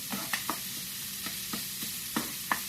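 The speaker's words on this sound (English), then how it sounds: "I'm going to brown this sausage up." Sausage browns in a pan for Southern sausage pepper gravy, a soft steady sizzle broken by several light, irregular scrapes and taps of a spoon.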